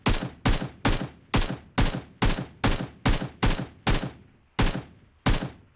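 Twelve evenly spaced, loud gunshots ring out in a steady rhythm with a short gap near the end, fired in the PUBG Mobile battle royale game, each a sharp crack followed by a quick decay.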